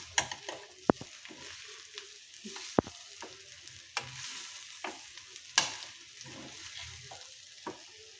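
Cabbage egg fry with chili powder being stirred in a pan, a soft steady sizzle under scraping spoon strokes with a few sharp clinks of utensil on the pan, close and alone.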